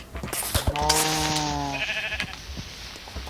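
A sheep in the Minecraft video game gives a single drawn-out, wavering bleat. It is close and clear, with light clicks and scraping around it.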